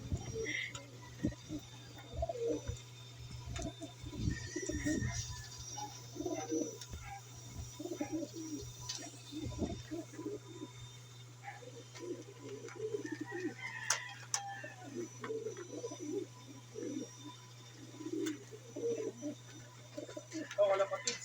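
Pigeons cooing in low, soft repeated calls, with occasional faint chirps over a steady hum and people talking throughout.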